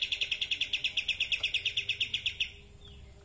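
An oriental magpie-robin (murai batu) sings a rapid run of about twenty sharp, evenly spaced high chirps for over two seconds, fairly close and clear, then stops, leaving only a quiet room background.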